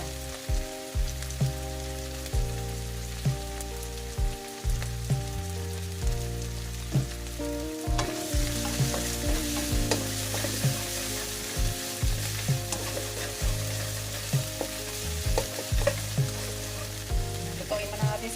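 Garlic frying in a pan while blue marlin fish is being cooked, a steady close sizzle with rhythmic stirring clicks and scrapes, the crackle brightening midway.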